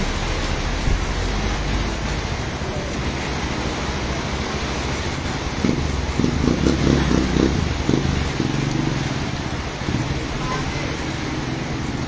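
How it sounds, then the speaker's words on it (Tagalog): Heavy rain pours steadily over a flooded roadway in Barangay Manjumlad, a constant broadband hiss with passing vehicle rumble, louder for a stretch in the middle as traffic moves through the floodwater. "Dulot po ito ng malakas na pagbuhos ng ulan."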